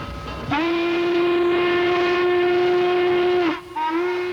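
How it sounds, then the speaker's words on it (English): Norfolk & Western 1218 steam locomotive sounds a loud, sustained whistle blast of about three seconds, then breaks and resumes briefly, with no talking over it. "That lonesome whistle brings them right out of the woodwork, or out of bed, or down from the hills."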